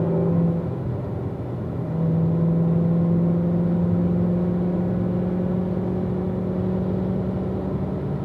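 A car's engine drones steadily as it accelerates on the Spring Mountain race track, a close, sustained mid-pitched hum that rises slightly after a couple of seconds and holds.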